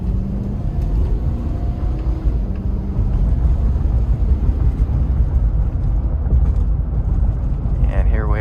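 Cabin of a 2005 Toyota Sequoia driving over a very bumpy road, a continuous low rumble of engine and road noise with faint thumps from the bumps, loud and steady throughout.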